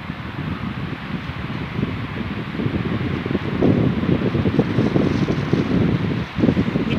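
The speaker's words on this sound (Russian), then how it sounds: "Ветерочек, видите, подул." A breeze blows outdoors, making a steady rushing whoosh with microphone buffeting that rises slightly midway, and nobody speaks.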